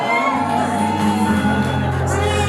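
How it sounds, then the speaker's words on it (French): Wedding guests at a religious ceremony in Paris raise continuous joyful shouts and whoops, a loud crowd sound with a sustained tonal hum running underneath. "Est-ce qu'on peut encore pousser les cris des joies?"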